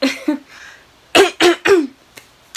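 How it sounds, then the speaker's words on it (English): A person clears their throat and then coughs several times in quick succession, close and loud, with short quiet gaps between bursts. "I'm sorry for coughing in you guys' ear"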